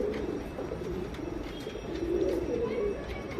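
Tamral male pigeon cooing in a steady low murmuring run, close and continuous, over a noisy background.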